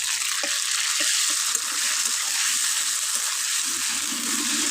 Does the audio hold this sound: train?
no